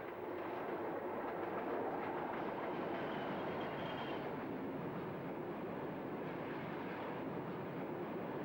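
A pick-up goods train on the Waverley Route rolls north across the River Esk bridge, a steady, continuous rumble and clatter of wagons that stays loud and even throughout, with no voices.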